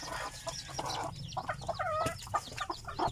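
A flock of native chickens cluck busily inside farm coops, many short overlapping calls close by and fairly loud, with no voices over them.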